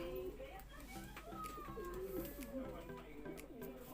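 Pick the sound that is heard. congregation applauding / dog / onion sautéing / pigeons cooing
pigeons cooing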